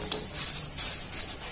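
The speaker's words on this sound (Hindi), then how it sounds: "जो लैया है वो डाल देंगे और उसे भी अच्छे से मिक्स कर देंगे सभी चीजों में" Puffed rice and fox nuts stirred in a pan while making murmura namkeen, a steady dry rustle with light scraping and faint metallic ticks against the pan, close up and continuous with no talking.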